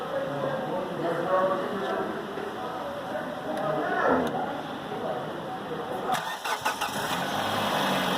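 A car engine cranks and then catches during a crank sensor check in a workshop, its rough rumble rising into a steady run, with a few sharp clicks near the end.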